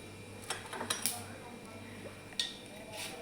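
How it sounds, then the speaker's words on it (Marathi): Mustard seeds hit hot oil in a pan while a chavali and potato curry is being cooked. A few sharp metallic clinks and light crackles sound close by over a low steady hum, with brief bursts between quieter stretches. "मोहरी टाकून घेते."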